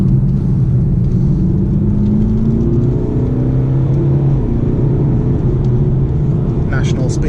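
A 2017 BMW 420d xDrive diesel accelerates steadily, its engine rumbling low and continuous from inside the cabin while a voice talks over it throughout.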